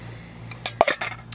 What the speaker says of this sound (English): a generic Amazon stainless steel cooking pot